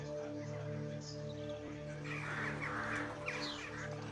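Crows cawing and birds taking off from trees in a video game, heard over a steady droning background bed, with a brighter burst of flapping and calls in the second half.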